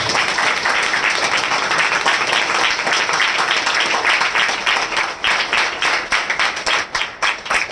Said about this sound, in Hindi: हम जोरदार ताली से उनका स्वागत करें।